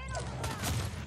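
Belica's bomb ability going off in the video game Predecessor: a short burst of dense, rumbling blasts lasting about a second, with game effects and a voice in the background.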